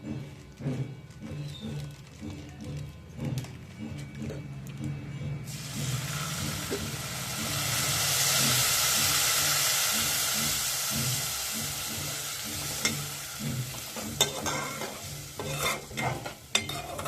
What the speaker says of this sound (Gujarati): તો હવે આપણે એમાં નાખી દઈશું દૂધ.